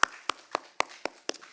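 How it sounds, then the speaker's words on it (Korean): Congregation in a Korean church in Hawaii clapping to welcome visiting members at a Wednesday service: six sharp, separate claps spaced evenly, close and fairly quiet, with no talk. "박수로 환영합니다."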